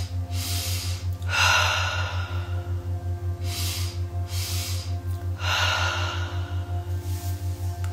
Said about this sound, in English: You get to just breathe with it